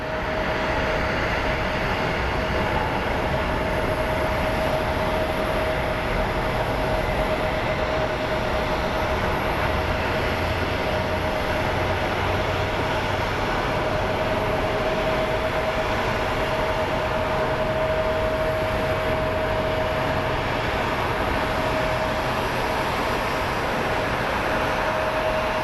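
Airliner taxiing at Phoenix Sky Harbor International Airport, a loud, steady engine roar with a sustained whine held for about twenty-five seconds, with no voices.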